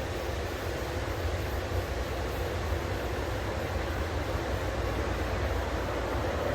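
A model cargo train set hauling freight runs through a display at a windmill museum in Lubbock, Texas, giving a steady, even mechanical rumble and whir throughout with no horn clearly standing out.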